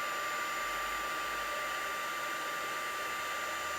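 Heat tool blowing steadily, a continuous loud airy whoosh with a faint high whine, held at constant strength while melting fine embossing powder into a shiny layer.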